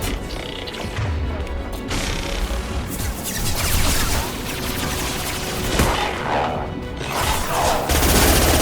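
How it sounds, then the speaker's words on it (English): Concussive shot ability firing in Mass Effect 2, loud heavy blasts and crashing impacts over a dense wall of combat noise, with several sharp bursts and a thump near the end. "Firing concussive shot."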